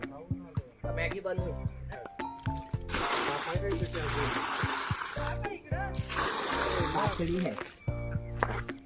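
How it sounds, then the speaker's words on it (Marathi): Water splashes and sloshes in two longer bursts as it is poured onto plants in a village garden, with someone talking between and over the pouring. "आता भाऊ पाणी घालतोय त्याच्यात झाडात."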